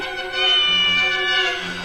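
A cat meows in a drawn-out, tonal cry that lasts nearly two seconds and swells in the middle, close and clear.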